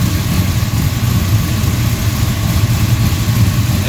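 A carbureted-style V8 fitted with Edelbrock Pro-Flo 4 EFI on a DCI Motorsports RA5 idles on an ice-cold start: a loud, steady, lumpy low rumble close to the microphone with a fast, even pulse and no talking.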